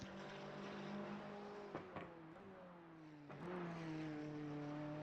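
McLaren race car engine in Gran Turismo 4, a steady droning tone that drops and shifts through gear changes, faint and continuous with no talk.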